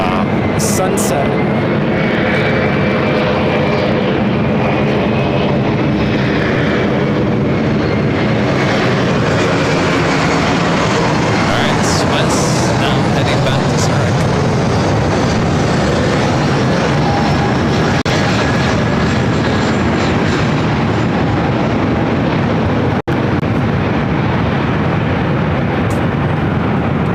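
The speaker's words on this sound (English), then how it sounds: "This is Swiss Flight 41 taking off to Zurich on the 777-300ER." A Swiss Boeing 777-300ER takes off at LAX bound for Zurich, its loud engine roar swelling and slowly fading over a long stretch, with people talking over it and a few sharp clicks near the middle.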